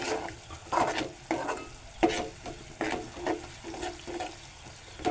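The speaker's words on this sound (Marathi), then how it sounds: "पुन्हा ढवळून घेऊ." Onions stirred in a pan with a little water added while cooking a valpapdi bean dish, giving repeated scraping stir strokes with soft sizzling underneath, close and moderately loud, no talking.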